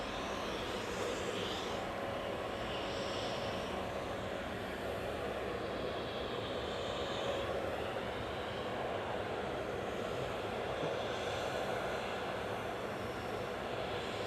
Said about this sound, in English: Next up for departure, back to Paris Charles de Gaulle is Air France flight 1169, operated by FHBLH Embraer 190.